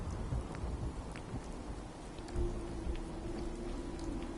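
Rainfall in Fallout 4 as a constant wash of patter, with a low thunder rumble rolling in partway through, no voices.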